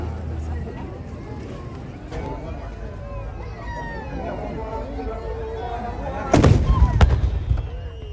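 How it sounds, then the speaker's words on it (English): A Ramadan cannon in Qatar fires one heavy, booming blast late on, rising out of a steady outdoor crowd murmur. "So there's going to be a big blast out of that cannon over there"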